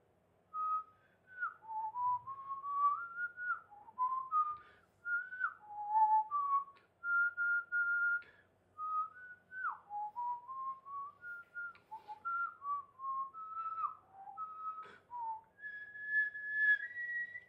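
A person whistles Satie's waltz Je te veux alone, a clear, close melody of gliding sustained notes and quick slurred turns running steadily with no talking.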